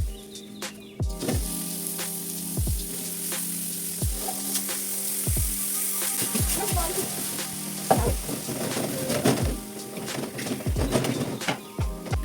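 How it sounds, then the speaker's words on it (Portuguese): Beef chuck sears in a dry pan without oil, giving a steady close sizzle broken by a series of sharp scraping stirs at irregular intervals, with no voices over it. "Vou colocar o acém sem óleo, sem tempero, sem nada."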